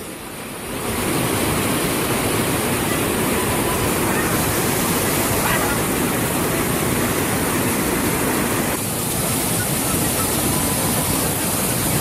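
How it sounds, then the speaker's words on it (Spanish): The Golondrinas waterfall in San Ignacio, Chalatenango, El Salvador roars with a steady, loud rush of falling water, constant and enveloping, with no other sounds standing out. "En la cascada de las golondrinas"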